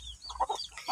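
A mother hen gives a few soft, close clucks beside her chick, a short burst of quick low calls.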